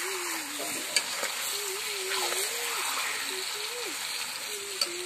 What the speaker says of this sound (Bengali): এখন মশলা আর মাংস একসঙ্গে কষিয়ে যাবে।